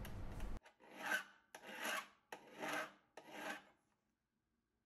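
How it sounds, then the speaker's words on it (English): A hand file works flats onto ISO20 tool-holder pull studs, four or five distinct rasping strokes in a regular rhythm, close and clear, then quiet. "I ended up just hand filing everything"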